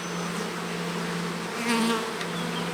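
Honeybees from a nucleus colony buzz in a dense, continuous drone close by, with individual bees swelling louder as they fly past.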